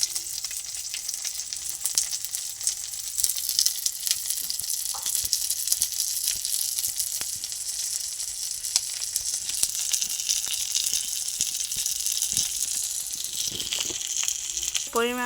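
Onions, green chillies and tomatoes frying for homemade pasta, a continuous crackling sizzle in the pan with occasional stirring clatter throughout, while a person talks over it.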